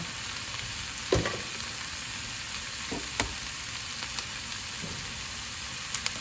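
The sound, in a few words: eggs frying in a pan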